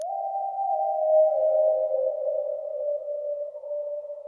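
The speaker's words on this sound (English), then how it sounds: "the next sound I added was this super ambient lead just tucked in the background." A sustained ambient synth lead from the Omnisphere ZZZ preset, with a smooth pitch glide partway through, holds a steady soft mid-range tone on its own for about four seconds.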